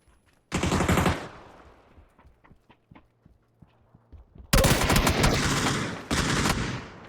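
Shotgun blasts in a PUBG esports match: a sharp loud burst, a stretch of lighter scattered shots, then a heavy close volley of rapid blasts that pauses briefly and resumes.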